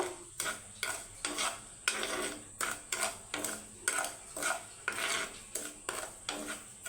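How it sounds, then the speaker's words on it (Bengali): A metal frying pan is handled on a stove to make sugar caramel, giving rhythmic scraping and stirring strokes, roughly two per second, close and moderately quiet with no voices. "এই যে ফ্রাই প্যানটা বসাই দিচ্ছি এখন ক্যারামেলের জন্য"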